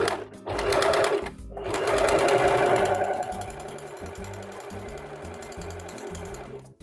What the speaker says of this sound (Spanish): Y vamos a coser con la puntada que vamos a utilizar.